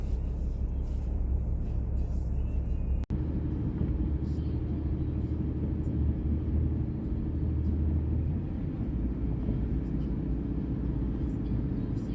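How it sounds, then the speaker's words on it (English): A truck's engine rumbles low and steady while driving through a truck stop parking lot, heard from inside the cab under ongoing road noise; the driver's voice carries on throughout. "I'm going to mention it while I'm driving through the truck stop parking lot"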